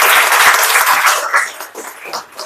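An audience at a career counselling and motivational session in a district office claps loudly, a thick burst of applause that gradually thins and fades toward the end.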